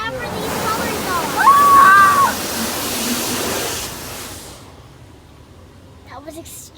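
A touchless drive-thru car wash sprays colored soap over a car, heard from inside as a loud, rushing hiss of water jets that fades after a few seconds, with excited voices.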